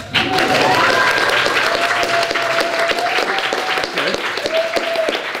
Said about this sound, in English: And you can give a round of applause, by the way.